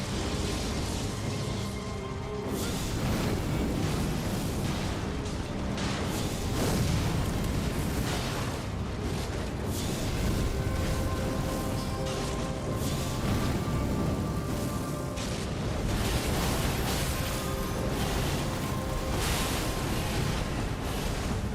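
Dense, loud wall of fiery impacts and rumbling blasts from a boss fight in Elden Ring, continuous and booming throughout with no breaks.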